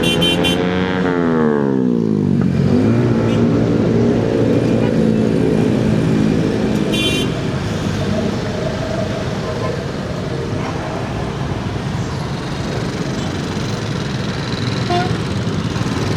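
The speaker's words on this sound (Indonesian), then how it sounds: "Tuh, macet banget lewat sini" A congested street in Indonesia's capital gives a dense, continuous roar of engines and motorcycles at close range. A falling whine near the start gives way to a steady traffic drone.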